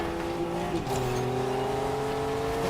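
Cars race in a video game, a steady loud engine drone holding sustained tones that shift pitch once partway through, continuous and without voices.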